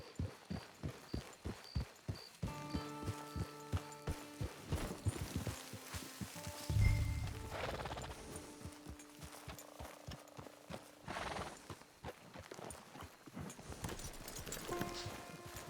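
Horse hooves clip-clop at a steady walking rhythm in Red Dead Redemption 2, close and fairly quiet, with faint game music tones underneath and no talk.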